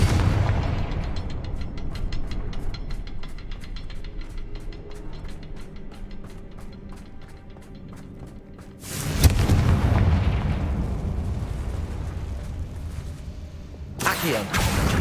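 Confringo fire-blast spells explode in Hogwarts Legacy, a loud rapid string of crackling pops followed by a heavy deep blast that rumbles for several seconds, then another sharp burst near the end.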